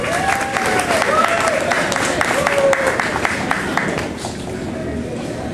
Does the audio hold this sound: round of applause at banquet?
yes